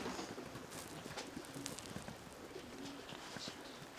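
A male Meulemans racing pigeon, a breeding bird, coos softly in a loft, a few faint low repeated coos over quiet background noise.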